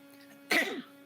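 A single short cough bursts out near and clear against a quiet room hum, lasting about a third of a second, from a lecturer during an intermediate financial accounting class.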